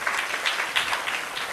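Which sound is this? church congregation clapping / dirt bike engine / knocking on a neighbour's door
church congregation clapping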